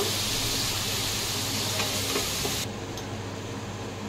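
A spinach and paneer mixture for palak paneer lightly fried and stirred in a pan, steady close sizzling with a few soft stirring clicks, the sizzle dropping suddenly quieter near the end.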